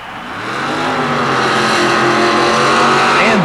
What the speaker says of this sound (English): And now the carbureted, gas-burning, full-bodied Chevy truck of Kuhn moves to the starting line